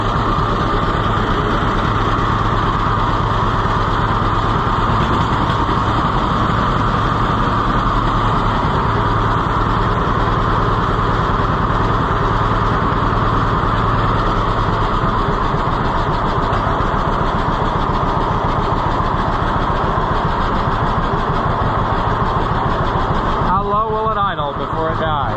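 An Oliver 1365 tractor engine runs steadily at idle for the whole stretch, a low continuous mechanical drone, with a brief shift near the end, and a person talks over it.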